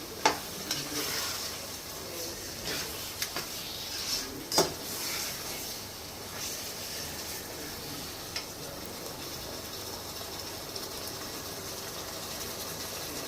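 Chicken with yogurt sautéed in a pan, low continuous sizzle with occasional spoon scrapes and taps against the pan early on, quiet and steady.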